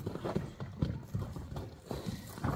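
Hooves of a young horse clip-clop in an uneven walking rhythm, several distinct knocks heard close by, with faint voices in the background.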